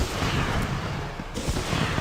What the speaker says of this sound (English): you need to shoot off 8 of these regular fireworks